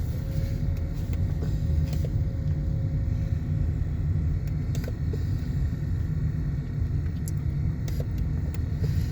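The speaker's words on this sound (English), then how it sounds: "Cute little car there." A small car drives with a steady low engine rumble that stays constant throughout, fairly quiet and unbroken, with no voices on top.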